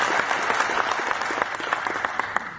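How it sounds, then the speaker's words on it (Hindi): An audience at an anti-terrorism conference applauds in welcome, steady and fairly loud, with many individual claps standing out in a continuous wash that carries through the whole stretch. "मैं चाहता हूं आप तालियों से उनका स्वागत।"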